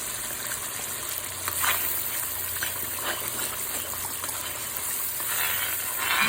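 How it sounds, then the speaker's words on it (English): A sauce mixture with ground sage being stirred in a pan, a constant close sizzle with soft, irregular scrapes and swishes from the spoon moving through the thick liquid, no voices. "And just keep mixing it, just stirring it up."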